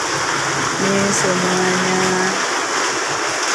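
Heavy rain and strong wind lash the town of Sigli in December, a loud, dense, continuous hiss and roar close by, with a voice speaking briefly over it.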